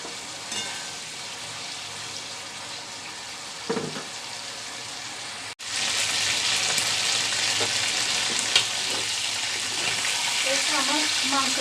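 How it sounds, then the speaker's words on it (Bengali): Broiler chicken pieces sizzle in a pan with a little salt for a chicken curry, a steady close frying hiss that drops out briefly midway and returns louder and denser. "এই মাংসগুলোকে বেজে নিচ্ছি অল্প করে লবণ দিয়ে দিচ্ছি"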